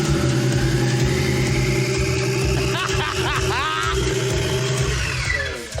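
A car engine runs with no coolant in it, idling with a rough, throbbing note and then rising in a couple of short revs. The engine is close and loud, with voices partly under it.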